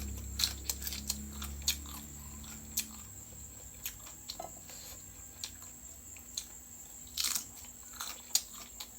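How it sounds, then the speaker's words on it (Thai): Fresh raw green okra is bitten and chewed up close, with a string of crisp crunchy bites and moist, squishy chewing at irregular intervals against a quiet background. "กระเจี๊ยบเขียวกินแบบสดๆ"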